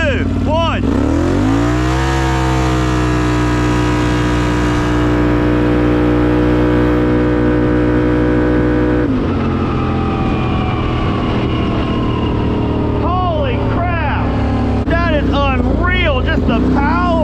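A Can-Am Outlander 840 ATV with freshly serviced clutches accelerating at full power, its engine rising to a loud sustained roar with pitch shifts, revving again midway. Voices talk and shout faintly over the engine.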